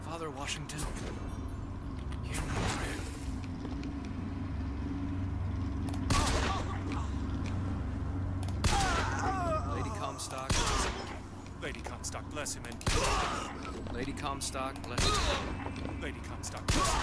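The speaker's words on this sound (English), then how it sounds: "Are you people shooting at me?" Gunfire aimed at the player in Bioshock Infinite, with scattered sharp shots and bursts at moderate distance, separated by gaps, while someone talks over the action.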